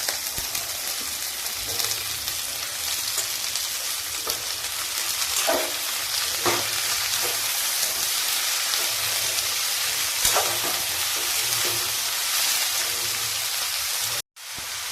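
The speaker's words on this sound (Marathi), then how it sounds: "आता त्यामध्ये मी गवार टाकून चांगली परतवून घेते।" Cluster beans stir-fried with softened onion in a home kitchen pan give a steady, close frying sizzle with occasional stirring scrapes and clicks, continuous throughout and cutting off briefly near the end.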